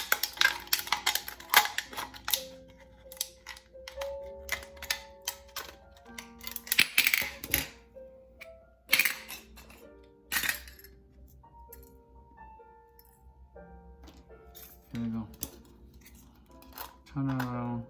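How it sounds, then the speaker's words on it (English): Scissors snipping through a thin aluminium drink can while making a can flower: a series of sharp metallic clicks and crunchy cuts in irregular bursts, close up, with quiet gaps and a little clinking. "Now we can use the scissors to cut it,"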